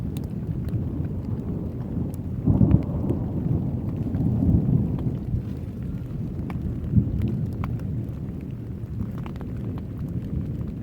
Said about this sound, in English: I think the storm is beginning to pass over us and move away.